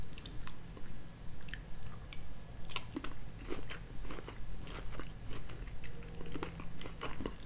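Close, wet chewing of filet mignon with Aji Verde sauce, rhythmic bites and soft squishes repeating steadily with small crunchy clicks, no talk.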